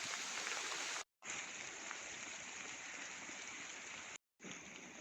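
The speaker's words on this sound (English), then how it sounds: "Oh, it started pouring down again." Heavy rain pours steadily through woodland, a dense even hiss of drops on leaves and ground, faint and uninterrupted apart from two brief dropouts.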